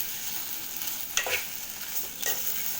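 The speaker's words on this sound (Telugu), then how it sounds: "ఆ టమాటా వేసుకొని ఒకసారి కలుపుకోవాలండి" Bitter gourd and tomato cooking in oil for a jaggery-sweetened dish, with a steady soft sizzle and a couple of brief stirring scrapes against the pan, fairly quiet and close.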